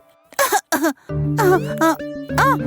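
A cartoon character in a Telugu jungle story gives two short, harsh coughs near the start, followed by a character voice speaking over a bright, sustained music backing.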